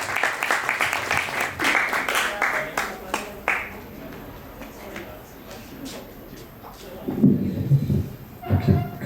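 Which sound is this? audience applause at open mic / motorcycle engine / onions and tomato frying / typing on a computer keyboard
audience applause at open mic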